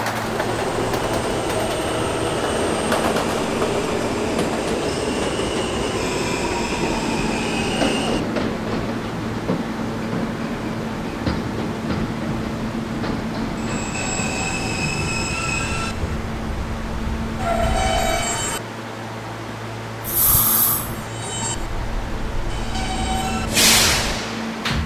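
An R160 subway car on the K train rolls between stations with a steady loud rumble of wheels on track, rising squeals and intermittent high screeches near the end, heard from inside the car without talk.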